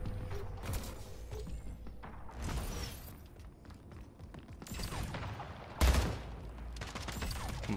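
Ray gun firing during a fast Splitgate match, amid repeated bursts of gunfire and mechanical weapon sounds, with one sharper blast standing out near the end.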